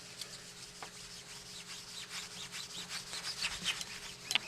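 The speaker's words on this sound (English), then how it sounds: "I'll just kind of dampen this a little bit with it, and then I'll start scrubbing it off." Scrubbing old bluing finish off a dampened gun, a soft continuous rubbing and rasping close by, steady strokes with a few sharper scrapes near the end.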